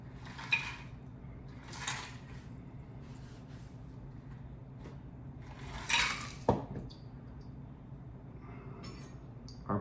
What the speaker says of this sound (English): Our poor strainer is struggling with the amount of pulp